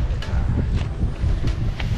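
Steady wind at Kitsilano Beach in Vancouver buffets the microphone with a low, rumbling roar, broken by occasional faint gusts and light rustles.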